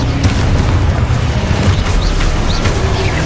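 Confringo spell explosions in the video game Hogwarts Legacy on PS5: a loud, dense booming blast that fills the whole stretch with a constant roar and small popping bursts, and no talk.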